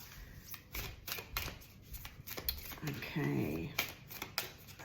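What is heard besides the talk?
shuffling oracle cards before a reading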